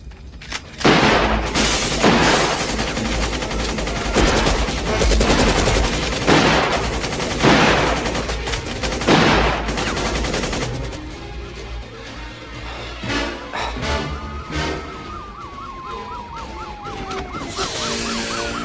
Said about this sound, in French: Inspecteur Sévrance, il est armé d'un fusil mitrailleur.